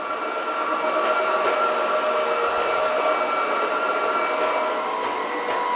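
A Roborock Dyad Pro wet-dry vacuum runs steadily while sucking up spilled liquid, giving a loud, continuous whining rush of motor and airflow close by with no talking.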